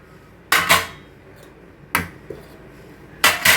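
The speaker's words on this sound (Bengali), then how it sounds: "সব ঢাকা ঢাকা দিয়ে রেখেছি, দাঁড়াও আগে ঢাকাগুলো সব সরাই" Lids lifted off dishes of cooked home food such as fish curry and dal, three sharp clinking clatters spaced about a second and a half apart, close and loud against a quiet room.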